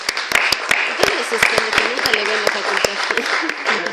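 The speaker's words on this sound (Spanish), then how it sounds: "Un fuerte aplauso." An audience in a lecture setting claps for an architecture lecturer and social work instructor being introduced, a close patter of scattered, uneven hand claps running throughout.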